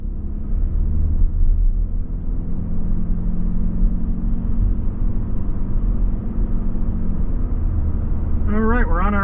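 A 2024 Toyota Grand Highlander Hybrid Limited with all-wheel drive driving on a road, heard from inside as a loud steady low rumble of road and tire noise, with a voice starting to talk at the very end.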